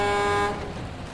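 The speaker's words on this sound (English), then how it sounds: "And honk the horn every now and again." Truck horn blasting in SnowRunner, a single loud sustained toot lasting about half a second before cutting off into a low rumble of the idling vehicle.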